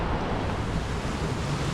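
Surf washes onto a small Oregon beach with rock formations, a steady, loud, unbroken roar of waves with wind noise and no voices.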